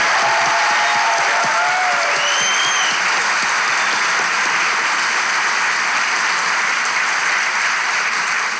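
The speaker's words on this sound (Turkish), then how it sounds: "Alkışlar!" Loud, dense studio audience applause after a song on a talk show, continuous clapping with a few whistles early on and no one speaking.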